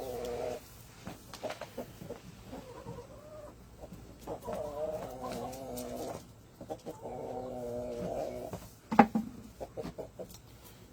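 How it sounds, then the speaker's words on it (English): Harsh, repeated two-note calls of a male guinea fowl ring out over a busy farmyard of clucking poultry, with a sharper squawk near the end. "Hear that second sound? That's the male guinea sound."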